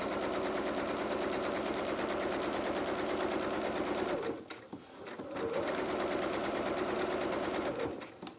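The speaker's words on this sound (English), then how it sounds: "sewing down towards that red pin. Just reverse stitch there." A sewing machine stitches a seam on a small dressing gown for a toy rabbit, running in a fast, steady mechanical rattle up close, pausing briefly mid-way before starting again.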